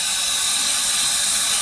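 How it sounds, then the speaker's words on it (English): Water rushes steadily through a fill tube into a toilet tank, a loud, close, continuous hiss with no pauses. "Water is coming from here,"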